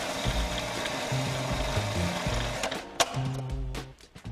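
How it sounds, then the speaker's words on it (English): Food processor whizzing cooked butternut squash into a puree, a loud close whirring motor with a churning, slightly lumpy rhythm and a sharp knock near the end. "I'm going to put it into a food processor and whiz it up to a puree."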